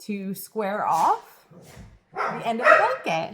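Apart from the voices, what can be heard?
dogs playing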